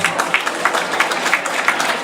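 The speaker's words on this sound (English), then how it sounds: "Thank you, a round of applause." Brief burst of dense audience clapping at an evening gala stage show in Shanghai, loud and continuous with a quick, even patter.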